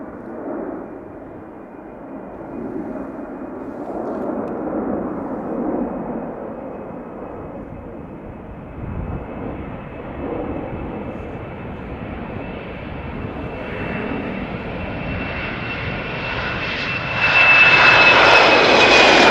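Turkish Airlines Airbus A330-300 jet engines at Schiphol, a distant rumbling roar that builds steadily into a louder, brighter whine and rush as the widebody draws nearer.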